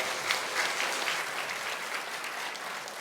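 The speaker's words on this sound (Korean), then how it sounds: "우리 박수로 격려 한번 할게요" A church congregation claps together in steady, warm applause for a few seconds during a Sunday service.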